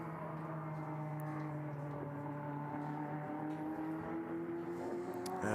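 Marlon Hernandez's number 71 Porsche GT race car in the pit lane at Magny-Cours during a four-hour endurance race, a faint, distant engine tone slowly rising in pitch, steady throughout.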